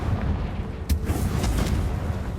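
Confringo blasting spell exploding in the Hogwarts Legacy video game: a sharp burst about a second in, inside a continuous low booming rumble, with no talk over it.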